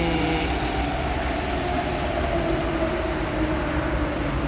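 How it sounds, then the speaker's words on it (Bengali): Metro train passing on a busy street in France, a steady, moderately loud rumble and rolling hum that holds evenly throughout, with no voices. "এই যে মেট্রো যাচ্ছে"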